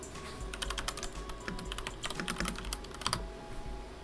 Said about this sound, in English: Enjoy keyboard noises.